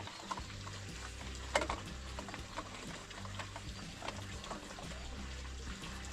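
Water is poured into a cooking pot of rice: a steady liquid trickle and faint stirring over a low background hum, with one brief louder splash.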